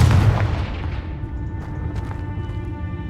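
Confringo fire spell explosion in Hogwarts Legacy, a loud deep boom at the start that rolls off into a rumbling, crackling decay with faint debris bursts.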